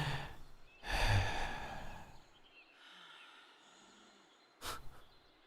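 A sleeping dog breathes deeply, two strong breathy exhales a few seconds apart with a soft, quiet stretch of low breathing between them, heard close up and alone.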